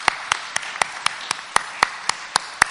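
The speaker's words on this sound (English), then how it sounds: "Let's all give them and their hard work a round of applause." A lone pair of hands claps at a slow, steady rhythm in a church, about ten distinct claps ringing out clearly over a quiet background.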